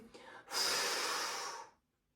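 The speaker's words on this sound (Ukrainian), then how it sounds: "Поїхали. Видих." A single sharp, forceful exhale through the nose or mouth during a breathing exercise. It is close and breathy, lasts just over a second, and ends abruptly in silence.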